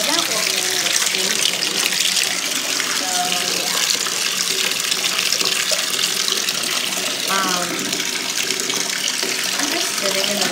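Water runs steadily from a tap, a continuous close splashing gush, with a voice speaking faintly underneath.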